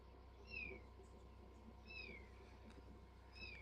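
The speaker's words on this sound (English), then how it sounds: "Those cats are talking to you, giving you support." Cats meow three times at steady intervals, each a clear rising-falling cry, moderately close over a quiet background hum.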